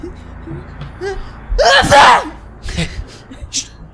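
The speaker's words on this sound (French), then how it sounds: "Elle éternue bruyamment." A woman's loud, forceful sneeze in a French audio drama, a single sharp burst preceded by a quick inhale and followed by faint voices and movement.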